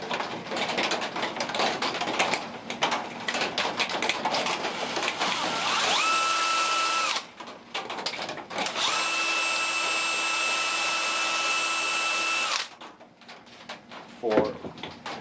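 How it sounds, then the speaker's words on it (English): A drill bores a 1/16 inch hole in wood for a pin on a wooden rubber band gun, whining steadily in two sustained runs amid clattering workshop handling noise, with speech present. "I'm going to be drilling a 1/16 inch hole in here."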